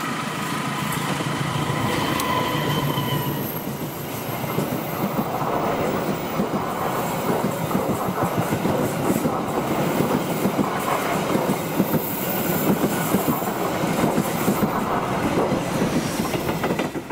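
A Bima passenger train rolls past on the rails near a large curve, a loud, steady rumble with rhythmic wheel clatter sustained throughout, no voices.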